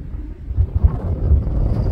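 Low, steady rumble of wind buffeting outdoors in northwest Missouri during a cattle drive, with gusty swells and no voices.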